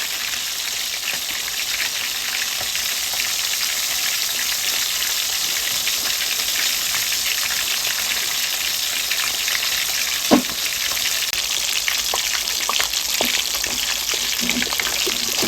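Fish frying in oil in a village-style kitchen, a steady dense sizzle running throughout with a few louder pops and crackles near the middle and end.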